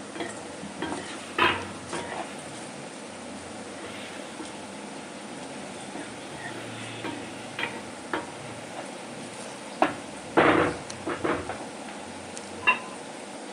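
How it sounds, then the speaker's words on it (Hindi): Salt, chili and a pinch of asafoetida stirred through in a frying pan, a low steady sizzle under sporadic spoon scrapes and clinks that bunch together near the end. "अब इसमें हम नमक, मिर्च और थोड़ी सी हींग डालेंगे एंड इसको अच्छे से मिलाएंगे।"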